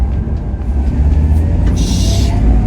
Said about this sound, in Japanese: ターボがすげえな、 音が。